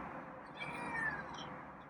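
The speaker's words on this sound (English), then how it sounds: "And it's meow." A single soft meow from a feral cat, drawn out and quiet, against faint background hiss.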